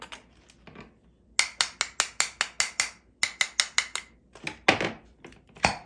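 Something pounded repeatedly to crack it open during New Year's food prep, two bursts of sharp, loud rhythmic knocks, about a dozen strikes each, with a few scattered thuds after.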